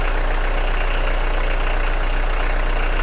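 A Peugeot diesel engine runs at a steady idle in a workshop, a close, continuous low rumble with an even mechanical clatter and no let-up, alone with no voices.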